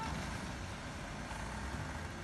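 A Volvo tanker truck stuck in deep snow, its engine roaring in a steady, loud low drone that holds throughout without a break.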